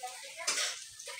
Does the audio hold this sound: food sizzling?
yes